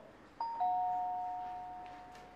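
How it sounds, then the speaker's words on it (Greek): An indoor doorbell rings once with two clear, bright tones close together, the second ringing out and slowly fading in a quiet room. "Έλα ρε Μάρο, το κουδούνι!"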